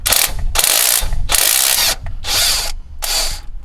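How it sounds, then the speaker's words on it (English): Impact gun rattling off car starter motor bolts, five loud close bursts of hammering buzz separated by short pauses, no talking. "Got the gun now. We're going to just try and take the 3 bolts off and see how we go."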